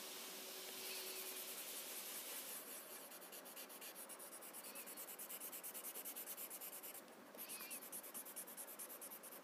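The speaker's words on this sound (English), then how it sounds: "Blend, push the chalk into the paper." Chalk rubbed and blended into paper during a Zentangle winter tile drawing, a steady close-up scratchy rubbing and swishing that continues throughout with slight surges, heard alone without voices.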